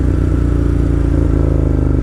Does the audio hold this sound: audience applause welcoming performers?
no